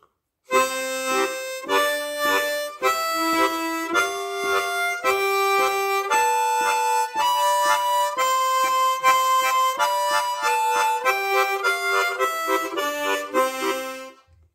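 A harmonica is played with tongue blocking, mixing chords and octaves in a steady run of detached, evenly spaced blown and drawn notes, close and clear with no voices.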